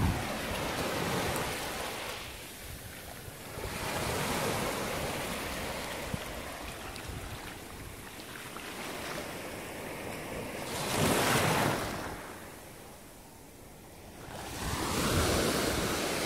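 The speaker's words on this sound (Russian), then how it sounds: "Вот такая у нас волна." Ocean waves roll onto a beach in slow surges, loud crashes building and fading every few seconds against a constant roar of surf and wind buffeting the microphone.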